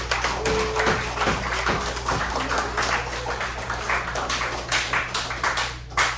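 An audience gives a round of applause at a motivational talk, scattered claps and taps at moderate volume over a steady low hum, loose and uneven rather than a full roar.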